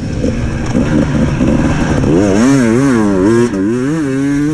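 Enduro dirt bike accelerating hard on an off-road stubble-field race track, its engine loud and close, the pitch climbing and dropping through repeated gear changes.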